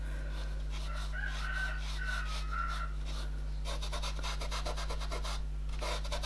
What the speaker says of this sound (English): Oh dear, we've got a rooster crowing.